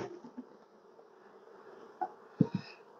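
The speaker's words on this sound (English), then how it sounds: "So these bees are starting to come back up." Honey bees buzz around honey boxes pulled from a hive, a faint, steady insect drone with a few brief knocks and handling noises near the end.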